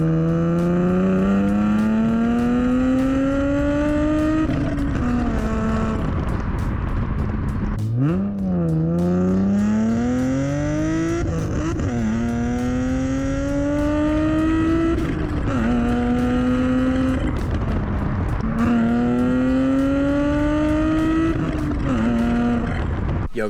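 An Infiniti G35 on a road test drive after a Seafoam treatment, engine loud and close throughout, rising through repeated gears with steady revs and shifts, no voices.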